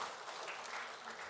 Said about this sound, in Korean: 환영하는 박수 한번 쳐주시면 좋겠습니다.